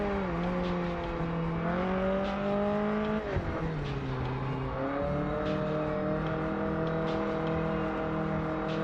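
An Italian car's engine revs hard toward high revs in the TDU Solar Crown racing game, a loud, steady droning whine that dips once mid-way as the gear shifts, then climbs again, heard alone.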